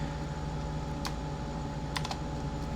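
Typing on a computer keyboard in a Linux terminal, heard as a few quick, crisp key clicks in short bursts over a steady background hum.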